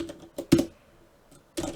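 Short bursts of typing on a computer keyboard during Java programming: a few quick key clicks near the start, a pause, then another brief cluster, close and fairly quiet with no talk.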